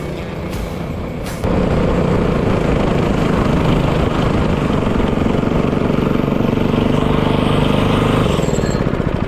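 A go-kart engine, a GX-UK Junior, with its throttle stuck open. After a couple of sharp knocks it surges into a loud, steady, buzzing roar that holds close and unbroken to the end.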